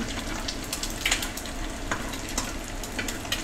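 An egg fries in butter in a non-stick pan, giving a steady, close sizzle with scattered soft crackles and pops throughout.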